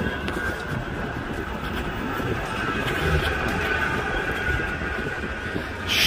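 A tram rumbles and squeals along the rails with a steady, loud rolling roar and a high metallic whine throughout, heard from on board without talking.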